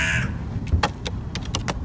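A white crow lets out one short, loud caw at the start, then light, quick tapping clicks follow, close by, with no one speaking.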